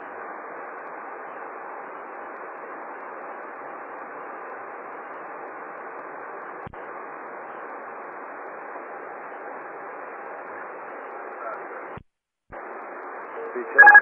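Radio transmission noise from a stuck microphone on an air traffic control frequency: a steady, hissing band of static held for about twelve seconds, with a brief dropout and a louder burst at the end.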